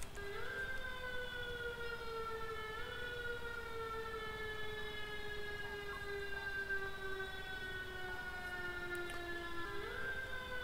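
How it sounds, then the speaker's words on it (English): A fire truck's primary siren from GTA 5 wails steadily and loudly with a slowly sweeping electronic tone, repeating in long cycles throughout with no other sounds. "that's going to be primary siren."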